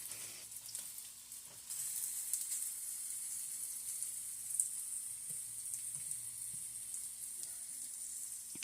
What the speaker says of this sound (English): I just like to cook my hot dogs, even though they're technically cooked, but I just like to cook them a little more.